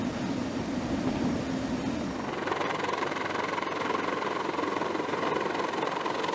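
Heavy, steady engine and rotor roar of a US Marines CH-53E heavy-lift helicopter, a continuous broadband drone that holds loud throughout with no voices.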